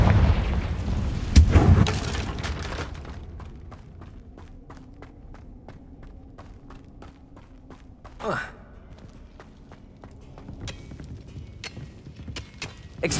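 Blasting-spell explosions in Hogwarts Legacy: a loud low burst near the start, then a quieter blast around the middle, with light rhythmic clicks and footsteps in between.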